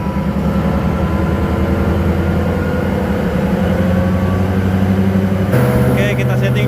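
A Hitachi EX2600 excavator engine runs at high revs, a loud, steady heavy diesel drone with a low tonal hum that shifts and thickens near the end, with no break in level throughout.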